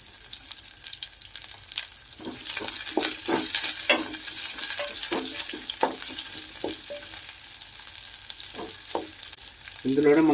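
Chopped garlic frying in a pan of hot oil for a chicken curry gravy, with a steady close sizzle broken by repeated stirring scrapes and a louder burst of crackle at the end.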